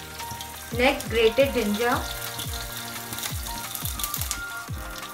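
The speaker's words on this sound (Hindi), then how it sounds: "जीरा और राई फ्लटर करने लगा है" Cumin and mustard seeds splutter in hot oil for an onion sabzi, giving a rhythmic series of sharp crackles and pops while someone talks briefly over the first part.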